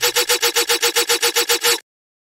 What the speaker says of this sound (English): playing around a little bit with the frequency shifter here.